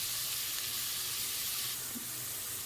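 Garlic and onion frying gently over low heat for Bahraini mandi, giving a quiet, even, steady sizzle that runs throughout with no voices.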